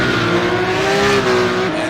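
A Porsche Cup race car at Mount Panorama, engine loud and close as it accelerates downhill, a sustained rising mechanical whine with a brief gear change near the end.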